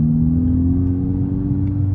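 A manual transmission car accelerating under light throttle, its engine a steady low drone with a gradually rising tone, no talk.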